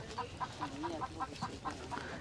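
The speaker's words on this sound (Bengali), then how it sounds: "পাশে মুরগির খামার পর্যন্ত রয়েছে ছোট্ট একটা" Chickens cluck at a small village poultry farm beside a house fenced with sola pith. Soft, regular clucks repeat about twice a second, faint and somewhat distant over a low background hum.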